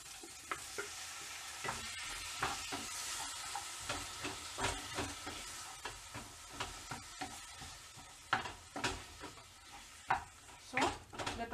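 Tomatoes sautéing in a pan for a simple mushroom gravy, a soft sizzle broken by repeated stirring scrapes and clinks that grow louder toward the end.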